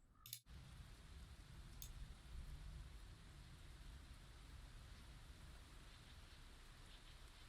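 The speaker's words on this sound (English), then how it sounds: "Let me just check and make sure that rainstorm isn't too much." Rainstorm ambience for a tabletop game session, a steady, soft wash of falling rain at low volume that continues throughout, with a brief click at the start and no talking.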